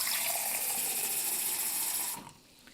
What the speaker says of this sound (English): Then I'm going to add water